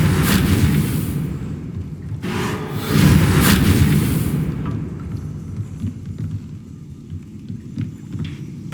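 Reparo repair spell cast in Hogwarts Legacy, a loud booming magical surge with rushing, crackling bursts that swell twice, then fade into a low rumbling tail scattered with faint clicks.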